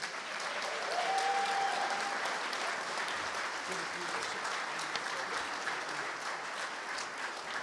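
Sustained applause from an audience at a St. Louis Sports Hall of Fame induction ceremony, a steady wash of clapping that stays dense and even throughout without any voices over it.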